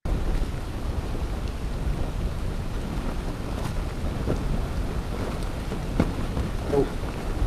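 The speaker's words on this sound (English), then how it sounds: "So this is a noise of an iceberg, which is etching, collapsing, rotating" An iceberg collapses and rotates in a fjord, recorded underwater: a continuous deep rumbling roar with crackling texture and scattered faint pops, steady in level throughout and with no voices.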